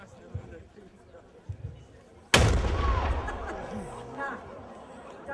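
A single sharp ceremonial cannon salute booms out at a castle ruin celebration, a sudden loud blast that rolls and echoes for several seconds, with crowd chatter before and after.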